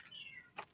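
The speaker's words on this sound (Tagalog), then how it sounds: "Nasunod yung pusa talaga eh." A cat meows faintly in a cemetery at night, giving a short drawn-out cry followed by a brief second call, soft and alone.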